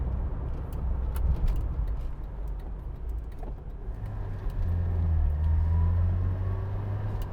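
A Vauxhall Cavalier engine idles at low revs with a steady, continuous low rumble, close and even throughout, with no talking.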